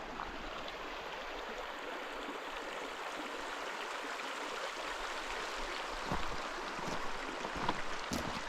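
Shallow, low-flowing Junction Creek in Kananaskis runs beside a gravel trail, making a steady broadband rush with no voices, plus a few faint knocks near the end.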